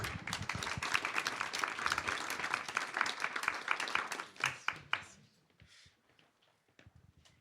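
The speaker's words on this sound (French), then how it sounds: "je vous remercie d'applaudir très chaleureusement notre auteur, Philippe Guichou" A book festival audience applauds an author steadily for about five seconds, the clapping then thinning out to a few scattered claps and quiet room noise.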